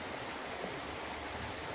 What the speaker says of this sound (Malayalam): തോട്ടിൽ വെള്ളം വീഴുന്ന ശബ്ദമാണത്